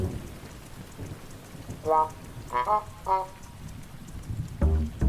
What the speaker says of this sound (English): Thunderstorm sounds for sleeping.